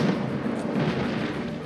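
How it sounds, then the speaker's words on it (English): Cannon fire explosions in the naval video game Abandon Ship come as a continuous, fairly loud barrage of booming low rumbles with no talk over it. "As the explosions rain in."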